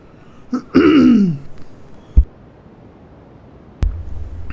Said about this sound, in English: Excuse me, this cough, man.